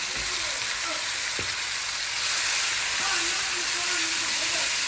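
Vinegar-and-cumin-marinated meat frying on high heat in a pan with butter and toasted spices, a loud, steady sizzle and hiss with occasional scraping stirs, no talking.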